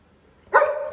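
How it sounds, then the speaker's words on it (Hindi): Max, a pet dog indoors, lets out a single sharp bark after near silence, close and fairly loud, trailing into a brief whine-like tail. "पता नहीं क्यों मैक्स अंदर से भौंक रहा है"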